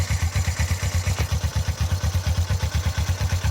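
A Suzuki GS 500 twin-cylinder motorcycle engine, not yet warmed up, runs at a steady low speed with an even, thudding pulse, close and fairly loud, with no sharp climb in revs.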